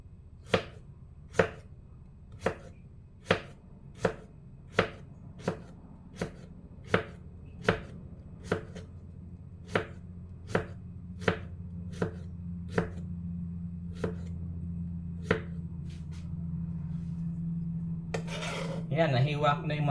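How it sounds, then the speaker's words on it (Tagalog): A knife slices through radishes with crisp, evenly spaced chops, about sixteen strikes at a steady one-per-second rhythm, close and clear. A low hum rises partway through and some rustling clatter closes the stretch. "Nagigisa lang ako ng labanos."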